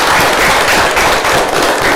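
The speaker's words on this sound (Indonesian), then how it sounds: "Tepuk tangan dulu" A loud, dense burst of classroom applause follows a student presentation, many hands clapping at once in a brief, crackling wash.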